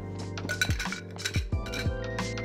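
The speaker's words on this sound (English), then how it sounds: "Now we add ice and stir." A spoon stirs ice in a mixing glass for a Toronto cocktail, giving several sharp, bright clinks and rattles, close and clear, with no voices.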